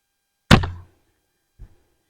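An arrow from a practice bow strikes a target with one solid, close thunk, and a faint, softer knock follows about a second later in otherwise quiet surroundings.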